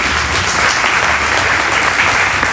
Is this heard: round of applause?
yes